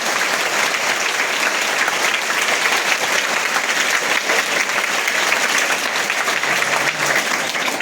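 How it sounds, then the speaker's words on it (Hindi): A student audience at a legal awareness programme gives a warm welcome to a guest with sustained, loud applause, a dense and even wash of clapping that continues without a break for several seconds. "मैं हमारे अतिथि महोदय जी का जोरदार तालियों के साथ हार्दिक स्वागत करती हूँ"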